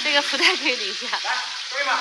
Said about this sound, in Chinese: 来，现在我们开始给椒盐龙虾过油